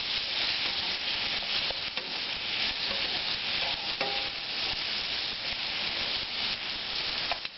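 Vegetables and garlic fry in a pan with a steady close sizzle and occasional stirring scrapes, with no talk.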